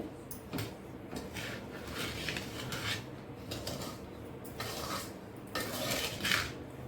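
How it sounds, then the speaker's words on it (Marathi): Moong dal ladoo mixture with cardamom and nutmeg stirred in a metal pan, soft scraping and clinking of a utensil against the pan in uneven bursts, fairly faint, with no talking. "थोडंसं आता आपण हलवून बघूया"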